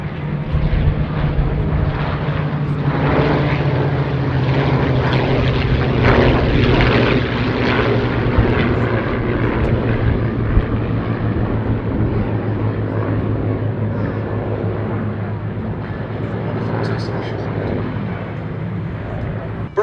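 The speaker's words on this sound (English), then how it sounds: "What a pleasure to once again see a display over Duxford from B-17G Sally B." A B-17G Flying Fortress, a four-engined piston bomber, flies a display at a Duxford airshow, its propeller engines droning loud and steady throughout with a continuous rumbling hum, while a commentator talks over the engine noise.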